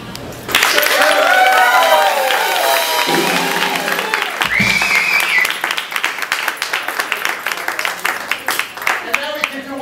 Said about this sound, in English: Tennis match applause, nice and polite.